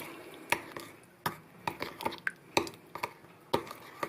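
A spoon stirs miso marinade in a bowl, making quiet, irregular clinks and taps against the side, a few sharp knocks spaced through a soft background.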